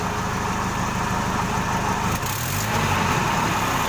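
A Jack H-20 series forklift engine idles steadily with a low, continuous rumble, its pitch shifting slightly partway through, heard close and loud with no talking.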